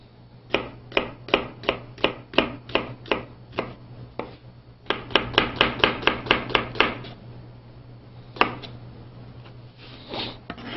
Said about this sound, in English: onion. Let's do a fine mince on that.